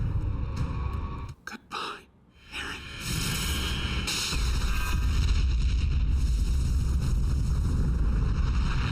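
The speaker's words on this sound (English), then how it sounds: "That explosion was insane." A massive explosion from the Colossal Titan in the Attack on Titan anime: a loud, broadband blast that cuts out briefly, then swells back into a sustained, roaring rumble that fills the rest of the stretch.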